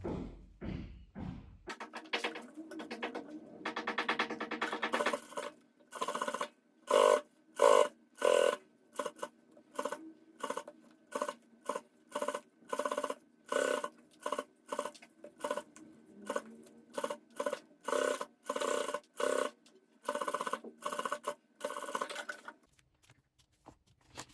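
A sewing machine with a half presser foot stitches around an appliqué on a bag, running in quick repeated bursts of rapid mechanical clatter separated by short pauses, close and clear.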